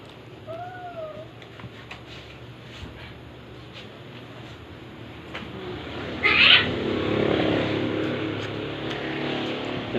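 A pet cat gives a single short meow near the start, close and clear, followed by quiet room noise and a louder rushing swell later on.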